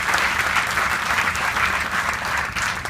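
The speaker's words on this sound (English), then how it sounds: "Let's give Jason a strong round of applause." Sustained audience applause at a groundbreaking ceremony for a FreshDirect facility in the Bronx, a dense steady clapping from a crowd that fills the whole stretch at fairly even loudness, with no voices rising above it.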